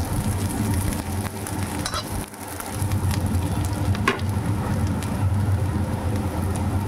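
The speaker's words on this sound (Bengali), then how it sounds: "তেল গরম হয়ে গেছে, এবারে এই তেলে প্রথমে দিচ্ছি গাজর" Carrots fry in hot oil, a loud, continuous sizzle and crackle with occasional stirring clatter, close and steady with no talking.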